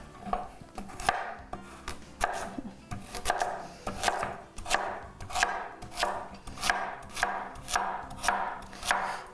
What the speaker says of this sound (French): Je suis en train de couper la carotte.